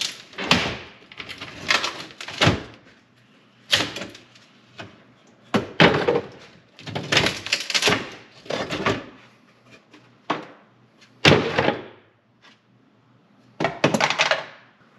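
A hidden wooden drawer in a custom rig is worked open, giving repeated sliding scrapes, knocks and thunks in irregular bursts, close and fairly loud, with quiet gaps between and no talk.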